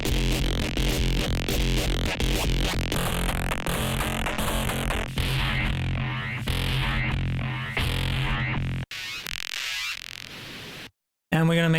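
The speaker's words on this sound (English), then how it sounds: "We're going to make sort of an industrial bleepy bloopy thing." An industrial, bleepy, bloopy synth sound made with distortion in Ableton Live plays loud and harsh with gritty noisy texture and stuttering pulses, then thins into sweeping tones before cutting off abruptly near the end.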